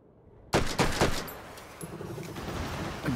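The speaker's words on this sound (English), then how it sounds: "Again, with the shooting of the rockets." Rockets fire in the VR game Hot Dogs, Horseshoes & Hand Grenades: after a quiet moment, several sharp, loud blasts come in quick succession, then fade into a lower rumbling tail, with no talking.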